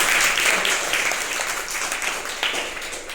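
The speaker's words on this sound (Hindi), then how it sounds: "जिन बच्चों ने ये निर्माण किया है उनके लिए एक बार जोरदार तालियां।" Loud applause from an audience for schoolchildren at a student project event, dense rapid clapping up close that gradually eases off over a few seconds.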